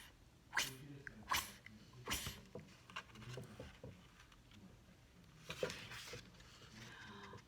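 A voice imitates a rotating lawn sprinkler with a series of sharp, breathy spitting bursts at first, then softer, irregular hissing puffs, all fairly quiet.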